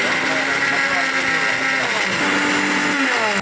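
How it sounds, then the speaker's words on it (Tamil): A kitchen mixer grinder whirs loudly and steadily, grinding a masala of cumin, coconut and green chili for a greens kuzhambu, its motor drone continuous throughout. "இதை நம்ம மிக்சியில் அரைச்சி எடுத்துக்கிடுவோம்."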